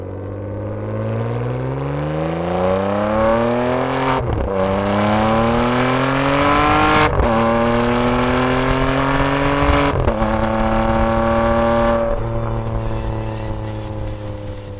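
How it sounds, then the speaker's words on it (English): A Ferrari 599 GTB Fiorano V12 engine revs hard and climbs in pitch, briefly drops at each gear change, then climbs again. Loud and close throughout. "a high-quality soundtrack provided by the V12 engine"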